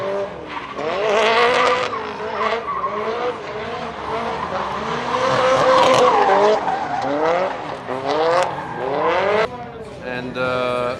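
A turbocharged drift car skids hard with heavy tire smoke, its tires squealing in loud, wavering screeches over a revving engine for about eleven seconds, close and dominant.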